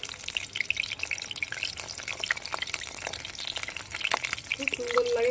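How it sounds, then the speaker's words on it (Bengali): Battered water lily (shapla) fritters frying in hot oil, a steady close crackling sizzle with bubbling that grows louder toward the end, with no talking. "লাল লাল করে ভেজে তুলে নেবে"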